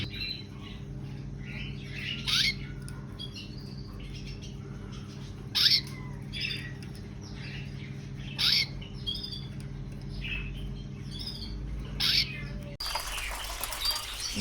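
A canary recovering from a splinted broken leg gives short, sharp squawks and chirps at spaced intervals over a low steady hum indoors.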